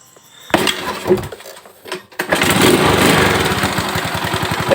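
A motorcycle engine with a freshly cleaned carburetor cranks with a few clunks, then catches and settles into a loud, steady close-up idle.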